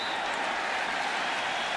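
A stadium crowd at an NFL football game between the Falcons and Patriots in 2009, a steady broad roar of many voices and noise, continuous and fairly distant.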